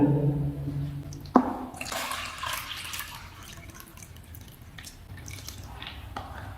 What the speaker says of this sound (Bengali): পুরো পানিটা আমরা ফেলে দিছি